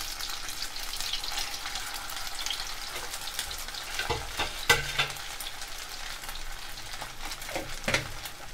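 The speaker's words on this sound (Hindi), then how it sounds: "ये आप इसमें डाल दीजिए और इसे स्लो फ्लेम में फ्राई करिए" Paneer and semolina pakoras fry in hot oil over a slow flame, a continuous close crackling sizzle that swells into louder popping bursts now and then.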